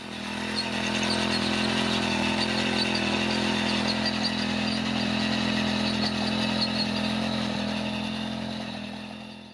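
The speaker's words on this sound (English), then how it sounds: "It's powered by a 57cc 4-stroke Honda engine that was quite powerful and reasonably quiet during operation." A Honda F220 rototiller's 57cc four-stroke engine runs steadily at high speed, a buzzy, even drone with a faint clatter, held close and constant throughout.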